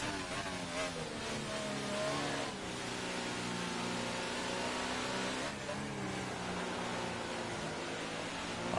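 F2 race cars circling the Circuit Paul Ricard in France in a racing video game, a steady droning engine whine with passing revs and broadband road noise, continuous and fairly loud, no talk.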